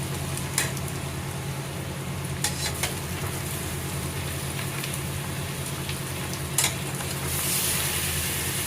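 Goat mutton hits a pan of reddish fried onions and fries with a steady, close sizzle, broken by a few sharp clatters of stirring, with no talk.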